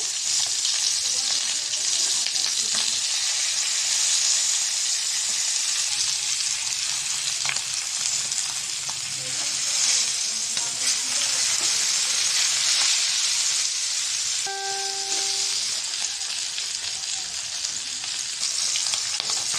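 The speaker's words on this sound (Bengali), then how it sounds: "মাছটা দুইবার করে ভাজা লাগবে যেহেতু বেশি মাছ মাছটা এখন উল্টিয়ে দেবো" Fish, such as shing, koi and magur, fry in a pan of hot oil with a steady, loud sizzle and crackle that runs unbroken throughout, with one brief clink partway through and no voices.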